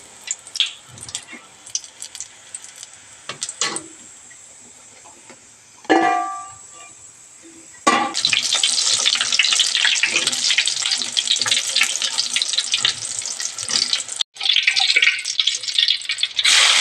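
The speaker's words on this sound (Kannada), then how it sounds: "ಇವಾಗ ಬನ್ನಿ ಬಜ್ಜಿ ಬಿಡೋಣ. ಎಣ್ಣೆ ಕಾದಿದೆ." Bajji fritters dropped into fully heated oil give off a loud, steady sizzle that starts abruptly partway through, breaks off briefly and returns. Quieter clinks and handling noises come before it.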